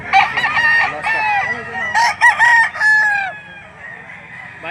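Several roosters crowing and clucking at a chicken auction market in Lipa, Batangas, loud and close, with overlapping crows in quick succession and faint voices in the background.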